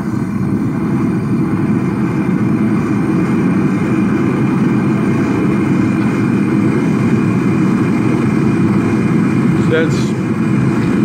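Big gas forge burner roaring steadily and loudly as its choke opens, a dense low rumbling rush that holds constant throughout, with someone talking briefly near the end.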